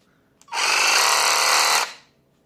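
A Ryobi One+ 18V compact reciprocating saw is switched on and runs unloaded for just over a second, a loud steady buzzing motor drone that starts sharply after a click and then winds down quickly to quiet.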